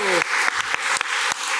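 A convention audience at a Sleepaway Camp movie panel at NY Blood and Ink Con 2025 claps in a dense, loud burst of applause, with a voice briefly heard over it.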